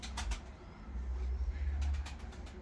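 Pigeons coo in a loft kept by a Kars breeder of white tumbler pigeons, with soft low cooing running through steady background rumble and a few brief sharp sounds.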